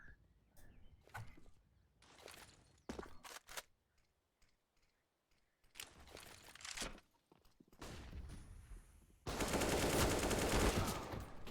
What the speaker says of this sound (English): He's throwing a couple spam shots over at Banana.